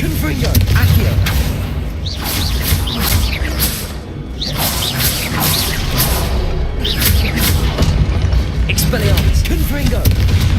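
A rapid string of Hogwarts Legacy spell casts, Expelliarmus, Confringo and Accio, fires off in loud, repeated whooshes, blasts and impacts over dense battle noise, with voices calling out among the effects.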